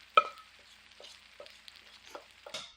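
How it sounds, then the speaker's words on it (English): Cornbread batter poured into very hot oil in a skillet, giving faint, scattered crackles and pops over near silence, with a sharper burst at the start and another toward the end. "So you can see how it's sizzling,"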